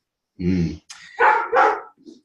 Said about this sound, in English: I just have my dog bark in the background.